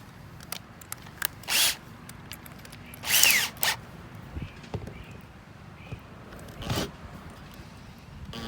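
A power drill drives long screws into a bass boat hull while mounting rod holders, with several short bursts of whirring spaced apart among quieter handling clicks and no talk.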